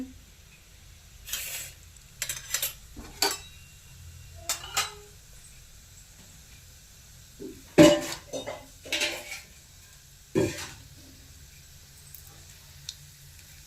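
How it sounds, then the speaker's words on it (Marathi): Cumin and mustard seeds crackle in hot oil in a pan on the stove, giving scattered sharp pops and clinks that come in short bursts over a quiet kitchen background. "जिरी मोहरी चांगली तडतडू द्यायची"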